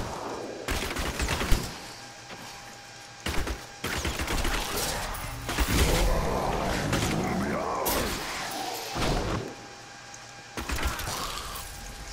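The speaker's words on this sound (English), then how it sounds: "I like the detonate Arcane or whatever," Arcane blasts detonating in Diablo 3, a series of loud bursts going off in clusters with crackling, sparkling tails, separated by short quiet gaps, while game effects clatter and whoosh around them.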